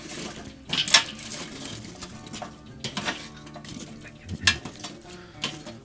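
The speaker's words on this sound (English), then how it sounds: "I'm gonna push around all of these coals first" Charcoal briquettes pushed and scraped around inside a smoker with a metal tool, scattered clinks and gritty rattling in short bursts, with a few sharper metallic knocks, close and fairly quiet.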